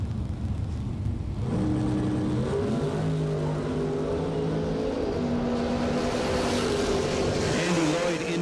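A 1969 Camaro accelerates hard at a bracket drag race, its engine rising through gear changes in a loud, sustained roar.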